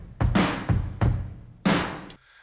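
Drum beat sample from a remake: four heavy, punchy hits with ringing tails, spaced unevenly over two seconds, close and loud, then a short clipped accent before fading to quiet.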